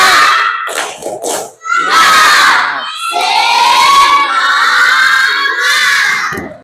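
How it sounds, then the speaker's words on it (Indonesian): A classroom group of children in an ice-breaking session shouting a spirited chant together, loud and close, in energetic bursts with brief gaps, then a sustained high-pitched cheer. "Tepuk semangat."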